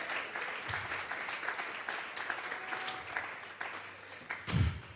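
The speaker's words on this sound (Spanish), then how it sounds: "Vamos a regalarle ofrenda de palmas al Dios de la gloria." A church congregation clapping during a Sunday service, a steady mid-level wash of applause in a reverberant room that ends in a brief louder bump.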